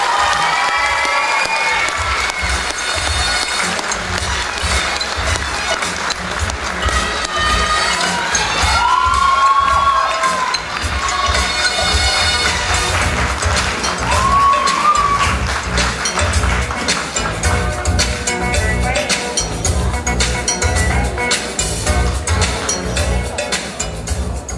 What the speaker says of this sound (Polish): Bardzo proszę jeszcze o wielkie brawa dla wszystkich.